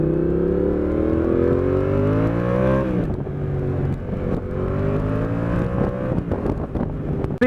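A Yamaha MT-07 motorcycle fitted with an IXRace exhaust revs loudly and close, rising through the gears, then pulling again in repeated surges of engine roar with some wind noise.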